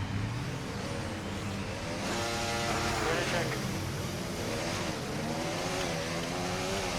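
Formula 1 race car on its formation lap in the F1 24 video game, a loud continuous engine drone rising and falling through gears, with someone talking over it.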